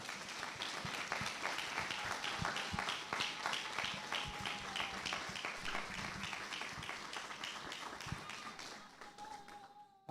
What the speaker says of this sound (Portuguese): Queria pedir que você aplaudisse o Senhor nessa manhã.